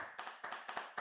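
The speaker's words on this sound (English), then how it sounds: "So please do clap to support" A few people in an online inclusive-design event audience clap briefly, sparse separate claps spaced unevenly across a second, fairly quiet and close.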